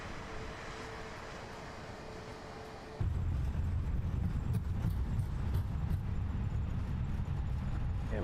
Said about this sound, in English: Forgot to set the auto brake, so we're going reversers.